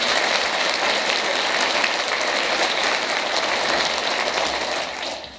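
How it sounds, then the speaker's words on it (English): Sustained, dense applause for graduates at a graduation ceremony fills the hall evenly for several seconds, then begins to thin out at the end. "Please give all these graduates one more round of applause for their effort,"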